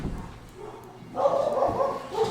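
Household dogs barking at a distance in the background, a few sharp barks in quick succession following a quieter stretch.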